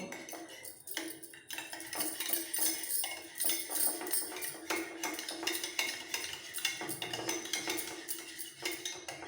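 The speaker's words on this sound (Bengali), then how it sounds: "দু চামচ টক দই দইটা আমার ঘরে পাকা এই দইটা আগে একটু ফেটিয়ে নেবো" A spoon clinks and scrapes against a bowl while homemade sour yogurt is beaten, making quick irregular metallic taps and rattles at close range with no talking.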